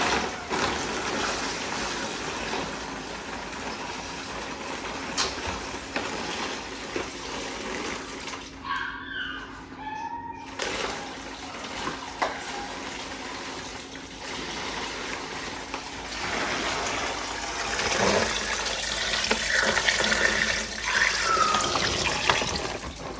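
Seasoned brine liquid poured slowly into a pot for a Thanksgiving smoked turkey, a steady splashing, trickling flow that continues for most of the stretch with a short pause midway.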